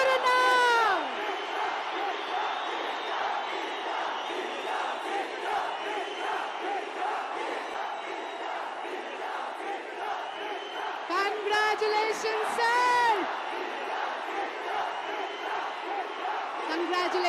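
A large crowd at a Max party event roars and whoops as Kiccha Sudeep arrives on stage, sustained cheering and shouting throughout with bursts of sharp whistles near the start and again around the twelve-second mark.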